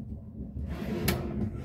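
A drawer in a 2014 Evergreen Ascend A191RB travel trailer slides and knocks shut, a short rumbling scrape followed by a couple of sharp bumps, close by with no voices.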